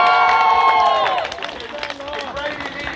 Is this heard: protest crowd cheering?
yes